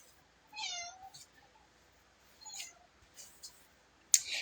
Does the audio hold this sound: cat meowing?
yes